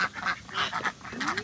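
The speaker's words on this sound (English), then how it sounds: "Then we have 14 ducks." A backyard flock of fourteen ducks in a home garden quacks in several quick, nasal calls, fairly close and overlapping, with no one talking.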